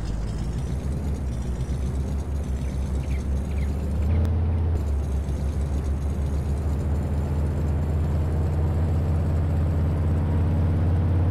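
A heavily overloaded truck hauling honey in Farm Sim, with no trailer, labors uphill: a steady low engine drone and rumble that swells and deepens partway through and keeps straining, with no talk over it.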